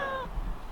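A single short cat meow, harmonic and fairly close, fading quickly into quiet background noise.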